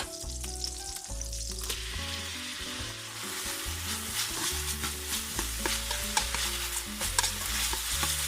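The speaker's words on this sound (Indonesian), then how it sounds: "Kita panaskan mentega atau margarin untuk menumis bawang-bawangan." Chopped onions sautéing in melted butter or margarine in a pan, a steady close sizzle with stirring scrapes underneath, while music plays throughout.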